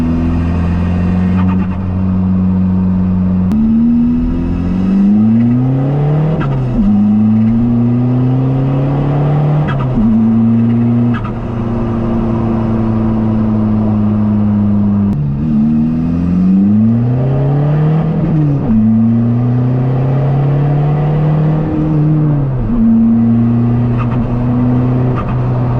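A diesel-converted Toyota MR2 is driven hard, its engine rising through the revs, dropping at each gear change and climbing again, loud and close from inside the car, with no talk.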